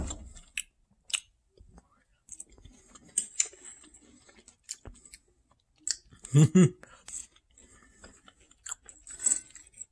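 A person eating a medium-cooked steak at dinner, with soft, intermittent close-up chewing and biting sounds spread across the clip, including one louder burst near the middle, and faint talk in the background.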